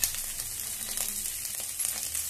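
Dense, crackling sizzle of cauliflower, green chili and onion frying in oil for hotel-style dal khichdi, close and continuous with light stirring ticks and no voices.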